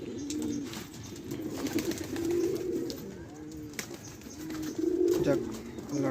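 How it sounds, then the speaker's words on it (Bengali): Racing pigeons back at the loft after a 10 km race in Dohar coo steadily and throatily in overlapping waves, close by, with faint voices in the background. "সবগুলো কবুতর এসে পড়ছে"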